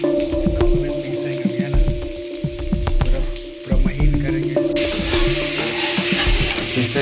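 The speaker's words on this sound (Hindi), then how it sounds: "ग्रेवी के लिए प्याज पका ले रहे हैं" Onions for a gravy sizzle and fry steadily in a pan while a utensil scrapes and stirs through them, with clattering strokes close by.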